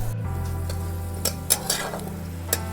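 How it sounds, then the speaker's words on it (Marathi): Onion and green chili sautéing in a pan, a steady soft sizzle under intermittent stirring scrapes and light clinks of a utensil against the pan, close and moderately quiet. "आता मी कांदा टाकून घेते हिरवी मिरची पण टाकून घेते मस्त असं परतून घेते"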